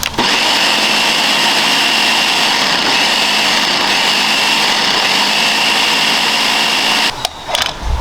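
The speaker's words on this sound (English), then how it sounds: "let our blender do the rest" A blender runs loud and steady at high speed for several seconds, its whirring motor constant, then sputters and cuts out near the end.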